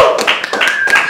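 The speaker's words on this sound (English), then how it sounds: "Sure, you can clap at me slowly losing my fucking mind." Audience at a stand-up comedy show breaks into brief, scattered clapping, a few loose claps overlapping close by with a faint tone behind them.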